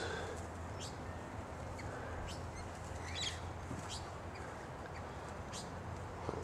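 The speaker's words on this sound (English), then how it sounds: "And here's some wattle birds." Wattlebirds call from a street tree in the morning, giving several short, scratchy calls spread through the clip over steady outdoor background noise.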